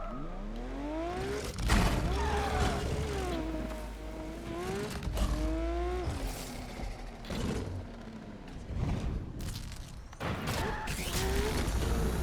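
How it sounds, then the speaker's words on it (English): Racing cars in Need for Speed Unbound rev and shift through rising engine whines, broken by several sharp crash impacts and scraping metal, all loud and close. "Car destruction in this game is stupid."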